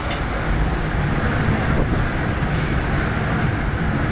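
The Raftar railcar, led by a GT20 diesel locomotive, passes on a Pakistani main line with a loud, continuous rumble and roar of wheels and engine that holds steady throughout.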